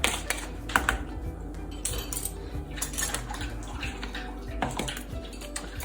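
Spoon or utensil stirring sugar scrub and oil in a bowl, with steady scraping and clinking taps close by, continuous throughout.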